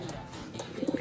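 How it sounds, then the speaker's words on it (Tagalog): A fighter pigeon coos in a short run of low, throaty pulses that grow louder toward the end, close by and with no talk over it. "Pigeon fighter."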